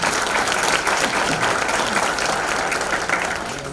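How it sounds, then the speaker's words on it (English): A banquet audience at an athletic hall of fame recognition event breaks into sustained applause, dense steady clapping filling the room and tapering slightly toward the end. "Give them a round of applause, please."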